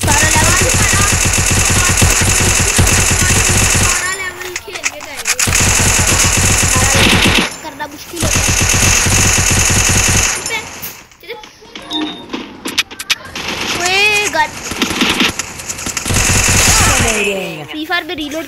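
Rapid automatic gunfire from the Free Fire video game comes in long sustained bursts broken by short pauses, loud and close, with a player's voice heard between bursts.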